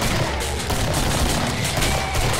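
Gunfire in the video game Killing Floor, an AK-47 firing dense, continuous loud bursts that fill the whole moment.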